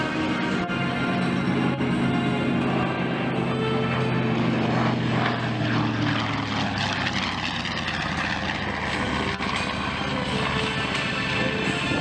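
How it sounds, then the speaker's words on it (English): A TBM Avenger propeller plane drones past at a distance during an airshow, its engine a steady rumbling hum that swells and fades gently throughout. "Again from stage left, the TBM Avenger."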